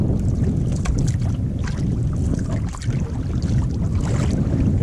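Wind picks up on a canoe trip near a bay, a constant loud low rumble of gusts buffeting the microphone, with faint water and paddle sounds beneath.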